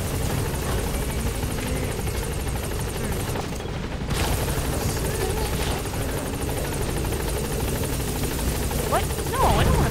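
A helicopter in Metal Gear Solid V: The Phantom Pain, its rotor drone loud and steady through the whole stretch, with bursts of other game sounds mixed in.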